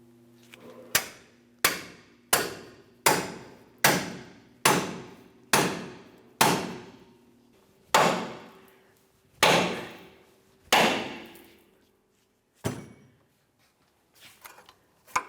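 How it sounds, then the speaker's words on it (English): A dozen loud metallic hammer blows ring out on a pickle fork separating a lower control arm on a 2002-2005 Ford Explorer, steady at first then spacing out, each strike leaving a short ringing decay, with a few lighter taps at the end. "Let's continue on with a pickle fork and a hammer."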